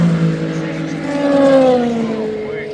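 A race car spins out during an endurance race, its engine note sliding and wavering with tire noise, loud and near, with a commentator talking over it.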